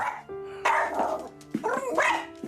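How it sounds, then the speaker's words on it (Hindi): A dog barks and yips a few times at close range, with short bursts separated by brief pauses and a faint background hum. "पता नहीं अचानक भौंकने लगा।"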